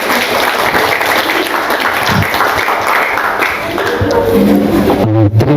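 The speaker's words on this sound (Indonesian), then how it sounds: "Tepuk tangannya dong." Audience applause at an Indonesian school event on positive culture, greeting the invited speaker Bapak Herdi; dense continuous clapping fills the room, a voice comes in near the end.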